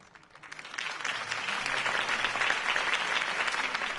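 Crowd applause follows Harvey Dent's campaign speech in the Batman Telltale video game, a dense, steady wash of many hands clapping that swells in over the first second and holds loud without voices.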